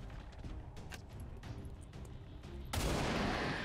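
Gunfire from a shot in the XCOM 2 video game: a muffled, rumbling game ambience that breaks abruptly into a loud, dense burst of shooting, which holds steady to the end.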